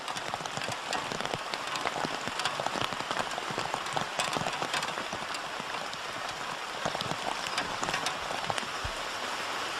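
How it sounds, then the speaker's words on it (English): Rain patters steadily on a tent in a dense, even hiss of drops with no pauses, heard from inside and close by. "it's quite nice to hear the rain"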